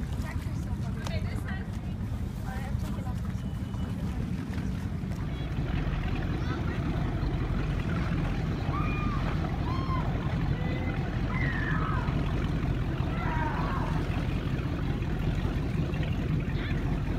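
A speedboat rides on Lake Havasu with a low, steady engine and hull rumble close by, wind and water noise mixed in, while people talk over it throughout.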